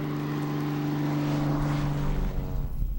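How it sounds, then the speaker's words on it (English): A small ski-equipped propeller airplane in Alaska drones steadily and close by, its engine hum holding a constant pitch before the sound roughens slightly toward the end. "Some small airplanes have skis that help them land on frozen lakes and rivers."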